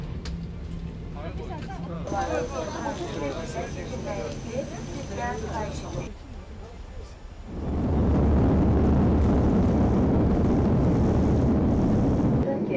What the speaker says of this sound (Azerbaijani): Artıq təyyarə havaya qalxdı.